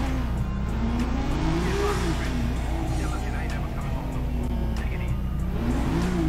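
A 1975 Chevrolet Caprice with a 2JZ engine in GTA 5 revs repeatedly, engine note rising and falling in waves of throttle blips, loud and close, with a steady idle rumble beneath.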